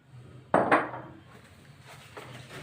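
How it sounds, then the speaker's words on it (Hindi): A cooking wok is set down on a stovetop burner with a loud metallic clunk and a second knock, followed by a soft, settling rattle and faint pouring as about a cup of oil goes in. "फ्लेम ऑन की है, कढ़ाई रखी है और इसमें मैं तकरीबन 1 कप ऑयल का डालूँगी"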